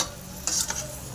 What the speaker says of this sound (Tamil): மஞ்சத்தூள் போட்டு நல்லா பரட்டி ஒரு 2 மினிட்ஸ்க்கு அப்புறம்